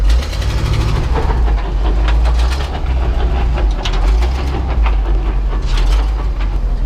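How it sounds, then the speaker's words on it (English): An old dump truck engine idles at low RPM, a loud, steady, deep rumble with a rough, chugging pulse close by, alone with no talking. "It's idling at probably like 600 RPMs right now."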